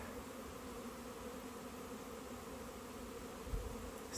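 Many honeybees make a spring cleansing flight around their hives. A continuous, even buzzing hum fills the air, with a brief louder bump near the end.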